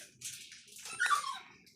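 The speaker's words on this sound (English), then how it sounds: "Oh, don't worry about that. That's just our dog." A pet dog gives faint, thin whimpers and a short high yelp, close by and soft, with no one talking over it.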